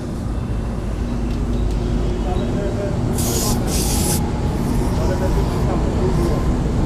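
Air is let out of a tyre during a puncture-sealant demonstration, heard as two short, sharp hissing bursts over a loud, constant background rumble.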